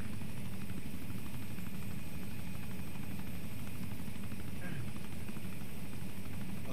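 A military helicopter's engine in ARMA 3 drones steadily at low volume throughout, a constant whirring hum with no change in pitch, as if heard from inside the cabin.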